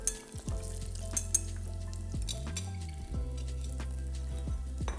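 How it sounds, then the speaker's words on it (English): Shrimp fritters frying in hot oil, a steady close sizzle throughout with a few light clinks from the pan, and no talking. "it's time to fry our little shrimp fritters"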